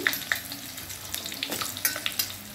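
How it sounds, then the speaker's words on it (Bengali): Panch phoron and bay leaf hitting hot mustard oil crackle and spit, with scattered sharp pops and a few stirring scrapes over a constant close sizzle. "সর্ষের তেলটা গরম হয়ে গেছে। এবার আমি 5 ফোড়ন দিচ্ছি আর তেজপাতা ফোড়ন দেব।"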